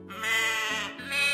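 A goat gives a long, wavering bleat, loud and close, with a short break near the middle before the cry resumes. No other sounds are present.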